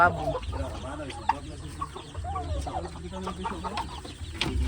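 Bantam chickens cluck continuously in a busy, close chorus, with scattered short calls and some background murmur.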